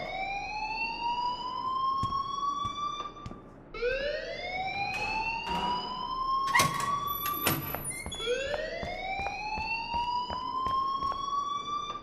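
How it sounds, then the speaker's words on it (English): Wailing siren-like school alarm in the video game Life Is Strange, repeatedly rising in pitch in long sweeping cycles. It sounds loud and steady, with brief clicks and other game noises scattered through. "please turn off that alarm since that's your job"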